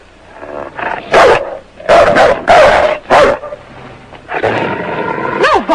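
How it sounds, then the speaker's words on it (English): A wounded dog found in the woods, just treated for a bullet wound, barks loudly and close in a string of sharp barks, then trails off into whining and growling sounds. "It's a dog."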